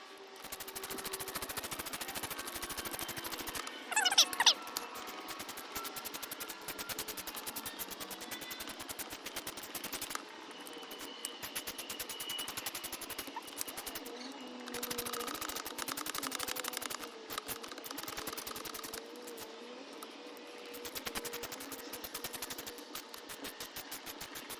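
A ratchet clicks in quick, rapid runs as clutch cover bolts are snugged down on a Suzuki RM125 dirt bike, close and steady with brief pauses between bursts.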